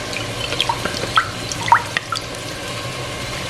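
Water trickles and drips in a kitchen while marinated vegetables are washed, with a few soft, scattered splashes against a quiet background.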